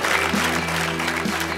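Studio audience applause on a sports game show, a steady, dense wash of clapping held at an even level for under two seconds, with a faint host voice and low music tones underneath.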